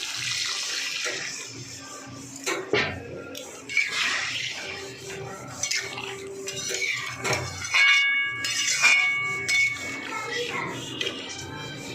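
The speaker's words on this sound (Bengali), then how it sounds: "কষানো হয়ে গেছে, এবার জল ঢেলে দেবো।" Water poured into a hot pan of fried curry spices, a steady watery rush and hiss running through the clip among clatter, with a voice talking over it.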